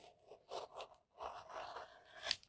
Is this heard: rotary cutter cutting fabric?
yes